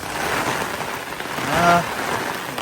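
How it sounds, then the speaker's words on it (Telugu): Rain falls steadily outside as a soft, continuous hiss, with a brief tonal sound rising near the middle. "ఎంత పెద్ద వర్షం పడుతుందో బయట చూడండి"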